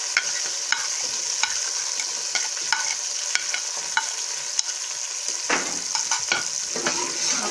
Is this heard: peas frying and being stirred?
yes